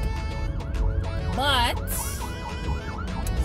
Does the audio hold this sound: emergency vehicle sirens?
yes